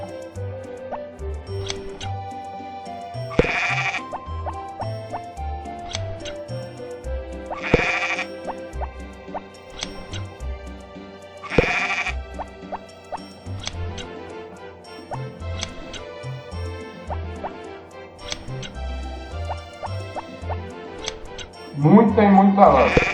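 Sheep bleat repeatedly in the farming game Harvest Moon: Back to Nature, sounding over cheerful background music with ticking effects, several distinct bleats spread through the scene.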